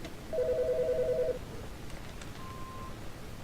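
A single burst of electronic telephone trilling rings for about a second in Autopsy Simulator, standing clear over a low room hum, followed by faint clicks.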